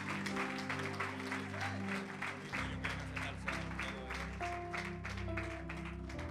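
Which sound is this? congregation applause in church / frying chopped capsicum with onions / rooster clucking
congregation applause in church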